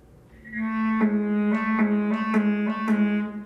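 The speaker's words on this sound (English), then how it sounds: "If I do something in bass clarinet, it sounds like this." A bass clarinet holds a low sustained note while a series of brighter tones articulate over it in a steady, slightly buzzy rhythm.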